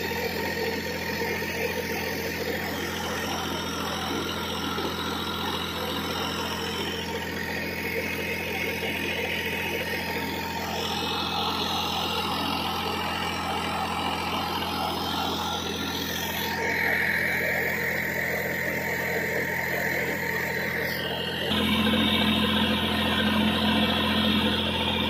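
A steady, droning Massey Ferguson MF9500 58 hp tractor engine runs a mud mixer at a brick kiln continuously at a constant pace, with machinery hum and a slight shift in tone toward the end.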